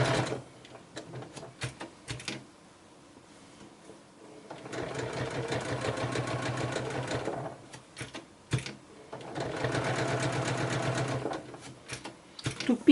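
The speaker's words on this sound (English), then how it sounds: "I will just stitch on this edge here with the straight stitch." A sewing machine runs a straight stitch along the edge of a quilt block in two sustained whirring bursts of a few seconds each. Scattered clicks and fabric handling come between the bursts, and the sound is fairly close and moderately quiet.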